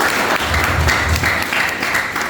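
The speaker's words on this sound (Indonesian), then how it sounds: "tepuk tangan dulu dong buat Tuhan kita" Church congregation applauding during a Sunday sermon, dense sustained clapping filling the room at a steady level.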